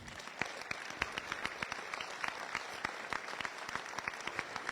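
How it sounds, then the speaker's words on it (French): An audience claps at a municipal New Year ceremony in Autun. The applause is moderately distant and steady, with distinct individual claps standing out over a dense wash of hands. "En termes de dons, on peut s'applaudir, non?"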